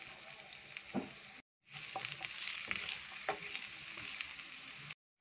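Garlic and onion fry in hot oil in a pan, a bright close sizzle with scraping stirs, broken by two abrupt silent gaps.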